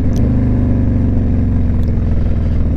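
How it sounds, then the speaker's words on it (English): A Peterbilt tanker truck rolls past close by, giving a loud, steady low engine rumble and road drone throughout, with no voices. "What do you got here? A tanker truck."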